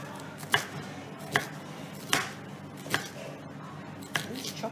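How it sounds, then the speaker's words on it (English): A knife chops through an onion on a chopping board in about six crisp, evenly spaced strokes, each a sharp knock against the board with quiet gaps in between. "so we've got our onion chopped"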